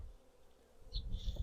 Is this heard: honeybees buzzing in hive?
yes